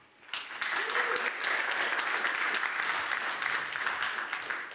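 Audience applause at a startup demo day fills a large hall, starting abruptly and holding as steady, dense clapping from a big crowd close by.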